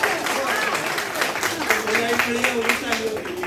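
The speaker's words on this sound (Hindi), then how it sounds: "जोरदार तालियां।" Audience applause at a second-birthday event: steady, dense clapping from a gathered crowd runs throughout, with a voice talking over it.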